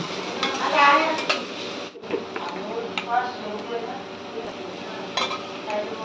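Onion fries slowly in a pan, a soft sizzle mixed with a spoon stirring and scraping against the metal, under continuous talking.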